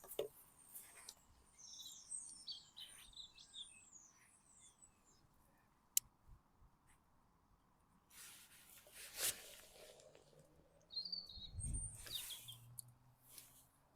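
Birds chirp and call in an allotment garden, scattered high twittering phrases near and far over a quiet outdoor background, with a few louder bursts toward the end.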